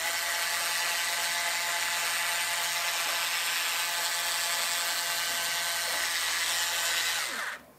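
A Bosch IXO cordless multi-cutter slices through cloth to make rags, giving a continuous high-pitched motor whir close up that holds steady and then stops near the end.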